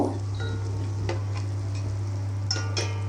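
Salted egg being stirred in a pan while making spicy pasta, a low steady sizzle with a few light scrapes and taps of the spoon, close and fairly quiet, without speech.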